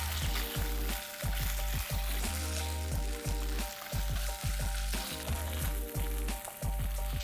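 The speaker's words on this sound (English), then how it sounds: "Saute them for few minutes" Whole spices, ginger garlic paste and diced onion sauté in oil, a close sizzle under loud rhythmic scraping and clanking of a spoon against the pan, with a faint tonal hum running throughout.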